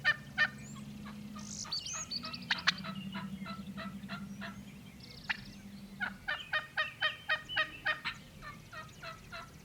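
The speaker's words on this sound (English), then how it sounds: "there's a turkey gobbling out in here" A wild turkey in Nebraska gobbles in rapid rattling bursts, several calls over about ten seconds, moderately distant outdoors with a low steady background hum.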